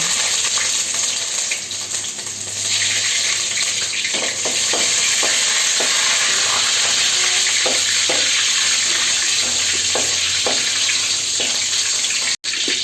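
Ginger sizzling and crackling steadily in hot oil with popped mustard seeds, with occasional stirring scrapes and clicks throughout; no voices.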